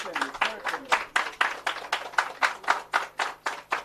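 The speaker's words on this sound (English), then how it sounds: "I think the Member of Parliament deserves another round of applause." Audience at a social housing handover ceremony clapping for a Member of Parliament in a steady, even rhythm, about three to four claps per second, fairly close and moderate in volume.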